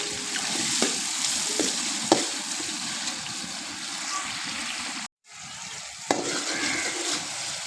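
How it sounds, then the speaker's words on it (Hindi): Onion and tomato paste stir-fried in a karahi for aloo chicken karahi, a continuous close sizzle with periodic spatula scrapes and taps, briefly cut to silence midway before the frying resumes. "प्याज और टमाटर का पेस्ट तैयार होने तक भून लेंगे।"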